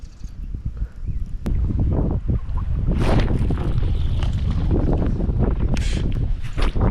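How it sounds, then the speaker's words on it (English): Strong wind roars steadily into the microphone, buffeting loudly and continuously with gusty bursts throughout. "Super duper windy."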